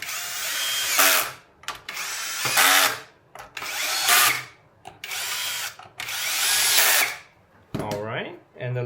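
A power drill drives long screws into a Floatwheel Atom, four sustained whirring bursts of about a second each separated by short pauses, close and loud, ending in a brief higher rattling whine.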